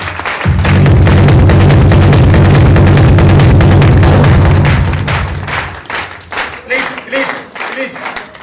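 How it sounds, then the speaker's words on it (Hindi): A large crowd at a business event in India applauds, a loud, thick wash of clapping with a heavy rumble that swells, holds, then thins into scattered claps and voices. "उनके लिए तालियां"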